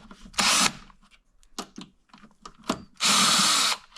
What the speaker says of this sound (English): I have a socket here of 5/16. That's the size I'm using.